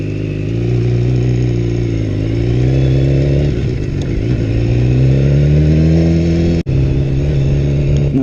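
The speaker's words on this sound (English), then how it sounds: "we're going to take a quick spin on this bike." A BMW S1000R sport motorcycle engine accelerates up close, its pitch climbing and dipping through gear changes, loud and continuous with a brief cut near the end.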